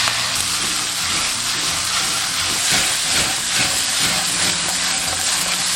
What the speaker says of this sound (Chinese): 油热过后加入大虾炒香。